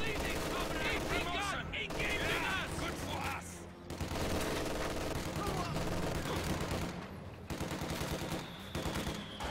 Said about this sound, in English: MG-42 is going to start working on the conscripts right here.